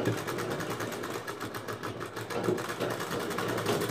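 Sewing machine stitching along a folded fabric edge for a drawstring channel on a potli bag, a steady close whirring hum with fast, even needle ticks.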